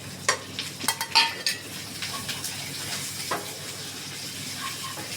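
Shallots, garlic and curry leaves frying in a pan for a Kerala beef curry, with a steady low sizzle and a few sharp stirring scrapes early on, then quieter hissing alone.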